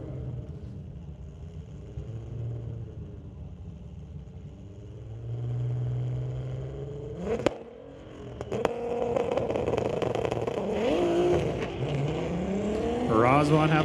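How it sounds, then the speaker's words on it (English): A 2023 Corvette in a street-legal drag race at Mission Raceway Park, engine rumbling steadily, then roaring as it accelerates down the track with rising revs, under a track announcer's voice. "Ross Walker in the right lane driving that 23 Corvette"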